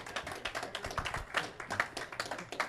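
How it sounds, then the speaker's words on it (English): A small audience claps for a candlepin bowler at a bowling match, scattered, close hand claps in an uneven rhythm, fairly quiet, with no one talking. "Let's give him a round of applause here."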